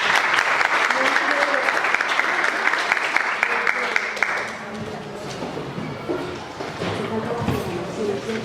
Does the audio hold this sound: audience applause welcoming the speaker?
yes